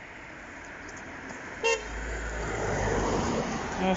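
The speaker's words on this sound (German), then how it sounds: "War ja schon gehupt." A single short car horn honk sounds out of a steady background of engine and road noise, followed by a rising vehicle rumble.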